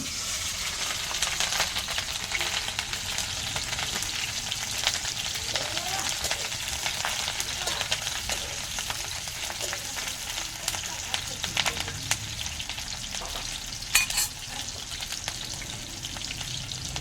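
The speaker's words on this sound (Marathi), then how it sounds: "छान तापलं आहे आता आपण यात मिरची घालू" Green chillies sizzle and crackle steadily in hot oil over a village wood-fired stove, a continuous frying hiss with occasional sharper pops, moderately loud throughout.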